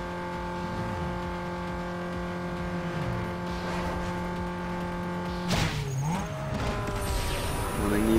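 A race car engine in Need for Speed Underground 2 holds a steady, sustained drone with shifting pitch, then gives a sharp crash-like burst and rising revs near the end.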